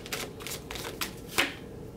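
Tarot cards being shuffled and drawn, a series of soft, close riffling and flicking bursts with a sharper snap near the end, quiet and without talk.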